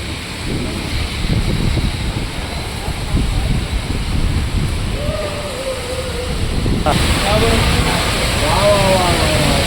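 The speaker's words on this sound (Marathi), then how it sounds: "चांगला जोरात आलाय पाऊस" Heavy afternoon monsoon rain pours down amid gusty, stormy wind, making a loud, continuous roar with rumbling wind buffeting the microphone and people talking over it.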